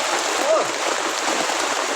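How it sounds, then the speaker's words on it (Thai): Heavy rain falls in a forest in a constant, loud wash of hiss and pattering, close and unbroken. "ฝนตกเนาะเปียกไปเลย"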